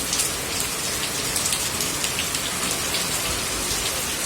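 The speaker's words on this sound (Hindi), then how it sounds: "इधर देखो कितनी तेज आ गई, पहले तो हल्की थी, फिलहाल तेज आ गई बारिश।" Heavy rain pours down in a dense, constant hiss of countless drops drumming on surfaces, loud and close, with no break across the whole stretch.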